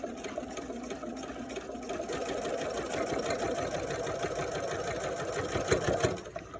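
A sewing machine top-stitches lacing stays into a fabric mask, running in one steady, close whirring burst for about six seconds before stopping abruptly.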